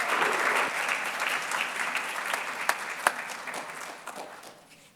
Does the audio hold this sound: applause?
yes